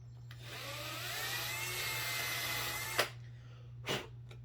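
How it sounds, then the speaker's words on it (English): Small drill boring a servo hole in a foam L-39 jet model, a steady close whine lasting about three seconds before stopping, followed by two brief clicks or bumps. "Drill the hole."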